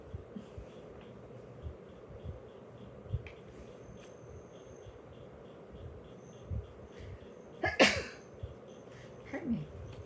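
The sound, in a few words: sneeze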